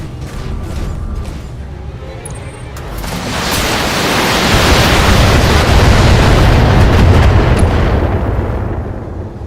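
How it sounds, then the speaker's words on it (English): A mech blown apart in the BattleTech video game, a heavy rumbling explosion that swells to a loud, sustained roar and slowly fades, heard alone without voices. "Enemy mech destroyed"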